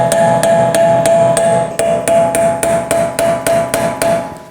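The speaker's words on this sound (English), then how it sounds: "Now I'm gonna take a punch and hammer and hit along the axle in the center divot" A hammer drives a punch against the center divot of a rear axle shaft on a 2018-2024 Chevrolet Equinox, about a dozen sharp metallic strikes at a steady, quick rhythm, loud and close with ringing overtones.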